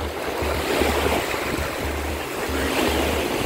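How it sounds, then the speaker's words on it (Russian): Sea waves wash onto a sunny beach in a continuous roaring surf, loud and close, with low buffeting wind gusts against the microphone. "Вот это мы волны сегодня увидели"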